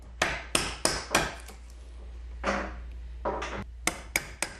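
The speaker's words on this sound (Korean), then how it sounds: "통 안을 채우고 있는 속을 조심스럽게 파내는 작업이 이어진다." Repeated sharp knocks of a hand tool chiselling out the inside of a traditional Korean instrument's wooden body, about a dozen close, loud strikes in irregular bursts with brief pauses between.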